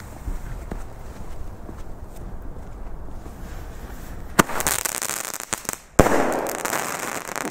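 New Year's Eve firework rockets go off outdoors: faint crackling and scattered pops build up, then two sharp loud bangs burst out near the end, followed by a lingering crackle.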